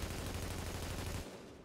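Rapid automatic gunfire from a strong-recoil weapon in The Division shooter game, a steady burst of shots that cuts off abruptly near the end, fairly quiet in the mix.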